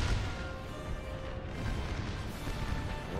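Artillery fire booms in an American Civil War battle game at Cedar Creek: a dense, continuous low rumble of cannon blasts with no clear gaps, loud and steady throughout, with no voices.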